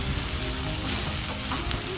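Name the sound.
mixing washed poha into fried tempering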